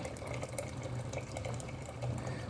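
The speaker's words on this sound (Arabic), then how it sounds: "بنحط الميه على الفول." Water poured from a tap or jug onto dried fava beans in a kitchen, a steady close splashing and gurgling stream that runs without pause, loud and alone.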